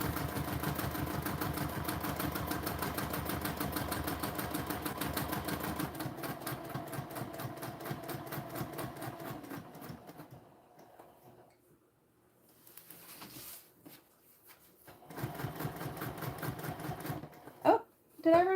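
A sewing machine stitches fabric in a fast, steady mechanical run for about the first ten seconds, then slows and breaks into short bursts, with a brief voice near the end.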